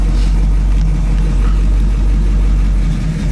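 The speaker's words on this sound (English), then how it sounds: "It's idling about 800 RPM right now" A 1967 Camaro Yenko tribute's V8 idles at about 800 RPM, a loud, steady low rumble with a close, even throb and no voices over it.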